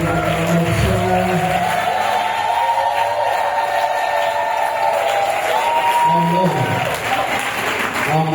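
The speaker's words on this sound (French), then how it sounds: "Est-ce que quelqu'un peut acclamer" A church congregation at a spiritual retreat cheers and shouts in acclamation, a loud continuous roar of voices with rising and falling tones and noisy crowd texture throughout.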